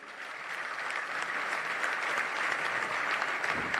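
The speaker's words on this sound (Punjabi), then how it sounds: "ਇੱਕ ਵਾਰੀ ਕਿਸਾਨ ਯੂਨੀਅਨ ਦੇ ਨਾਂ ਤੇ ਜ਼ੋਰਦਾਰ ਤਾੜੀ ਹੋ ਜੇ।" A crowd at a live Punjabi music show claps loudly and steadily for several seconds, dense applause building slightly and holding without voices.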